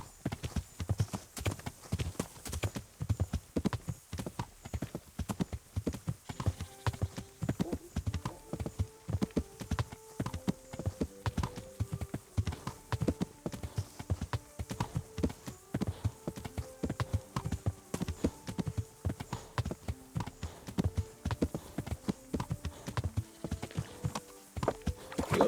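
Horse hooves clip-clopping steadily in the medieval video game Kingdom Come: Deliverance, a regular walking rhythm of close, crisp hoof strikes throughout, with faint game music tones rising in the background.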